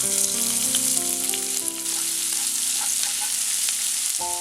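Crushed ginger and garlic sizzling in hot ghee and oil, a steady close crackle and hiss with a few stirring clinks, no voices.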